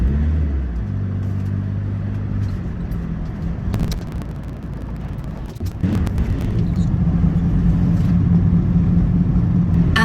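A camper van drives along a road in wintry northern Sweden toward the Finnish border, with a steady engine drone and road roar that dips briefly mid-way and then rises again, loud and close inside the cabin.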